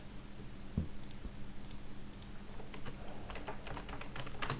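Keys tapped on a computer keyboard, a steady scatter of light clicks at close range that quickens and grows busier toward the end, over a faint room hum.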